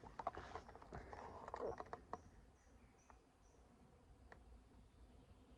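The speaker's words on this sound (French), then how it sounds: "Ça bourdonne beaucoup dans le coin" Faint buzzing of insects flying nearby in a quiet old graveyard, with scattered soft clicks and knocks.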